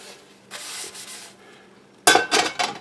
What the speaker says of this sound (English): But you just give it a good rubbing down.